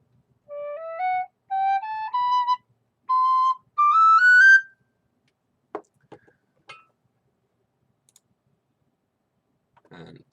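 Irish tin whistle playing a short ascending run of clean, bright notes in separate phrases, followed by a few soft clicks and near silence.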